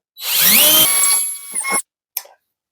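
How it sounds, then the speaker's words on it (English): A power drill whirs loudly into drywall for about a second and a half, winding down, followed by a brief short burst of drilling. "we're going to drill out our hole here"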